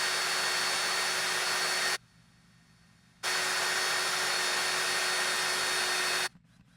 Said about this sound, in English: I'm gonna just let my whisk go around to shake some of that off of there.